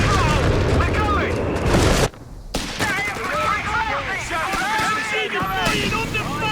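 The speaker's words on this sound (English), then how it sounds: "Artillery barrage on the way." Dense, continuous artillery barrage in the video game Company of Heroes 3, with rapid overlapping explosions and gunfire booms, briefly cut by a short lull, amid loud battle noise and radio-style voices.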